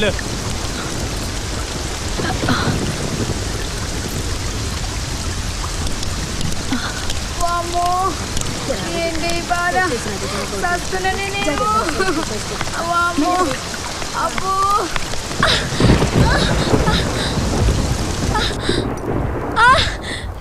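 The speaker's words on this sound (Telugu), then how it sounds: "వర్షం వస్తున్నది సారు." Heavy rain pours steadily while thunder rumbles, and a voice speaks intermittently over the storm noise in a scene from a Telugu feature film.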